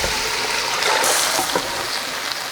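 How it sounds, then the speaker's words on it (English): Water pours into a hot pan of beans with a steady rushing splash and sizzle. The sound is close and continuous for a couple of seconds, with no talk. "And I'm gonna add in some water."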